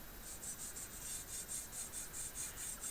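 Tippmann 98 Custom paintball marker bolt rasping against heavy black overspray and its O-rings, a steady scraping drag repeated in quick regular strokes, faint and close.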